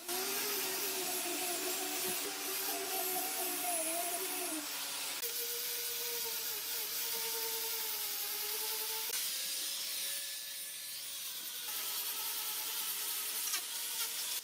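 A power sander drones steadily against the wood of a 100-year-old tree stump table with a mosaic inlay, working through finer grits, its whine shifting pitch now and then as it works continuously without pause.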